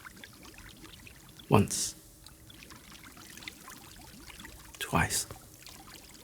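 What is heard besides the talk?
pouring solution from a jug over heads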